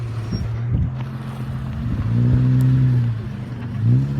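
A car engine revs and strains while trying to climb a wet slope. The low drone rises and falls in pitch through repeated pushes of the throttle, loud and close.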